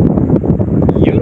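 Eureka electric fan running on speed 1 after a shaft bushing repair, its airflow buffeting close to the microphone as a loud, gusty wind-like rush with an uneven rhythm.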